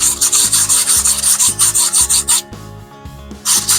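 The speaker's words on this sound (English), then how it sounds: "You don't want to sand too hard or you'll take the whole letter off, so just real light." Sandpaper rubbing lightly over painted wooden lettering to scuff it, in quick, steady back-and-forth rasping strokes, loud and close, with a short pause before the strokes resume.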